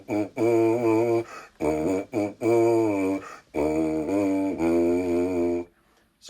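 Lips buzz into a brass mouthpiece with a bigger, fuller tone: a run of sustained pitched buzzes in short phrases with slight pitch bends and brief breaths between them, close and clear.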